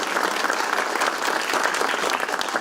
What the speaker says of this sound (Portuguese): peço uma salva de palmas a todos